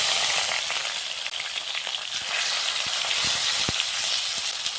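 Minced boneless chicken frying in a pan, with a steady close sizzle and crackle running throughout, plus occasional soft taps of stirring.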